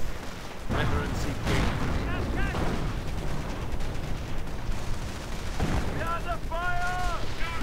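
A Tiger tank fires on an anti-tank gun during a World War II strategy game battle, with repeated booming shots and gunfire amid ongoing explosions while a commentator talks over much of it.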